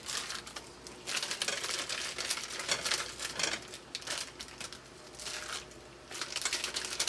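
Knife chopping half an onion on a cutting board, bursts of quick crisp cuts separated by short pauses, close and moderately loud, with no talking.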